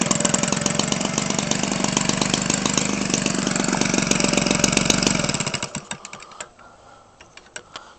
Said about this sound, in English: This thing sounds so sweet with that muffler.